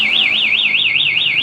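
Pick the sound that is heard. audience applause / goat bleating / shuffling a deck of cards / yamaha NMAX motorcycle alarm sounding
yamaha NMAX motorcycle alarm sounding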